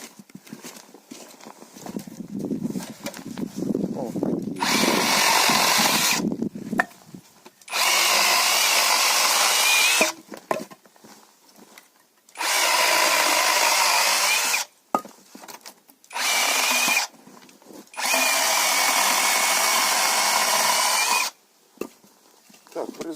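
Procraft PKA32Li cordless chainsaw cutting through wood in four loud, close bursts of a few seconds each, separated by short pauses, with some talk and handling noise at the start.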